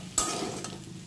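Potato and gima greens with cumin, turmeric and chili powder sizzle in a pan, with one quick stirring scrape and a soft, steady frying hiss close by.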